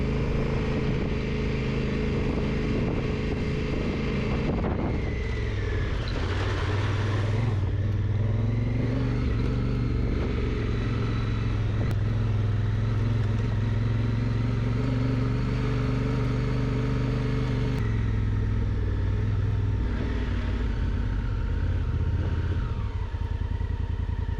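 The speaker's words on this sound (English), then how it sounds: "Otherwise, the engine was really lugging." Low, labored Honda Africa Twin motorcycle engine lugging uphill in first gear on Colorado's Ophir Pass, chugging at low revs, droning steadily with occasional clatter and slight changes in pitch as it strains along.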